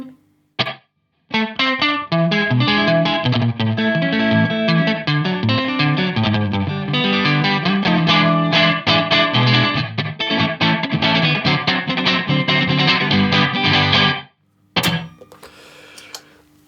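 An electric guitar plays a continuous run of chords and notes through a reverb pedal, close and loud with a washy, lingering tail, then stops abruptly before a brief knock and faint hiss.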